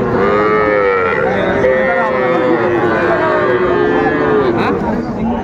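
Cattle, including small heifer calves, low and moo repeatedly at a livestock market in Keraniganj, Dhaka. The drawn-out calls overlap against a steady, busy market background with crowd noise.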